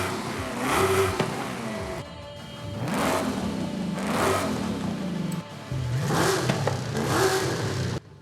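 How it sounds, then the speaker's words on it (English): An MG X-Power SV-R with an aftermarket exhaust in Forza Horizon 5 revs repeatedly, four or five sharp throttle blips rising and falling with brief idle gaps, close and loud. "this thing happens to sound very, very nice with a couple of different exhausts"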